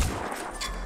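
A single loud gunshot in the video game Phoenix Point hits at the very start, followed by a short noisy tail of reverberation.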